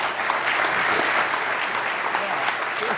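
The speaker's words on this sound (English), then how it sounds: "Round of applause for William's book." Steady, dense applause from a large conference audience honoring an author's book, loud and continuous throughout with no pauses.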